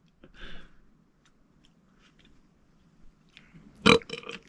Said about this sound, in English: Do coconuts make you burp? Because this is burping more than regular Dr.